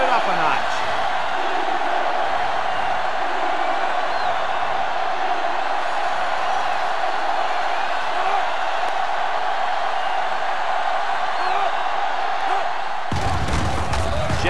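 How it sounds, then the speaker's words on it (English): Stadium crowd noise from the video game NCAA Football 06, Michigan Wolverines versus Ohio State Buckeyes: a loud, dense, continuous roar of a huge crowd with cheering swells throughout, cutting off abruptly near the end. "It's arguably the loudest crowd in the nation, and they are turning it up a notch."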